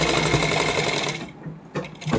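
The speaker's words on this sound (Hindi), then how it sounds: "एक पंजे का गैप देते हुए सिलाई लगा देंगे।" A sewing machine stitches an inner lining onto a heavily hand-embroidered suit, running as a close, continuous rapid whir that pauses briefly and starts again.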